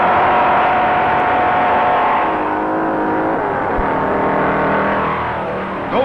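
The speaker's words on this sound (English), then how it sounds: "Owens goes all out, mashing the accelerator to the floorboard to make up time." A 1957 race car accelerates hard along the sand course at Daytona Beach, its engine roaring loudly and continuously, the pitch climbing and shifting as it pulls away, with no voices over it.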